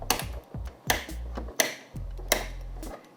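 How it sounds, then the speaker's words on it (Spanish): Continuous-ink-system dampers snap one after another into the cartridge slots of a repaired inkjet printer, four sharp, close plastic clicks spaced evenly apart, each followed by a brief low rattle. "los colocamos en la misma posición donde estaban los cartuchos y presionamos hasta escuchar sus clics"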